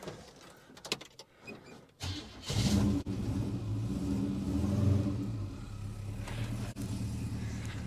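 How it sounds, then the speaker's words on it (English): Holden HK car engine cold-starting after new re-gapped spark plugs with timing out: a brief crank, then the engine catches around two seconds in and settles into a loud, steady close-up idle rumble that continues to the end. "I'm going to do a cold start."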